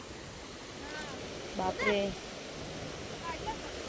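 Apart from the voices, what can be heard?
sea waves at Uran beach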